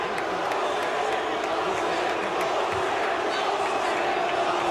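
An arena crowd at a classic UFC bout between Ken Shamrock and Royce Gracie roars and boos in a continuous, dense wall of voices, with an announcer's voice heard over it.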